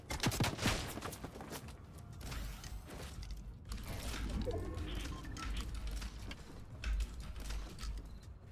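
Fortnite gunfire in a streamed Neymar Jr Cup match, dense and continuous with rattling, mechanical clatter throughout, loudest near the start and again around 7 seconds.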